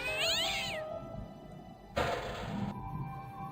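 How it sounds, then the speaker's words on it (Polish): A cat meows in the adventure game Broken Sword: The Shadow of the Templars, a clear wavering meow at the start followed by a softer muffled thump and a noisy burst. "A, jest kotek, o którym mówiłem."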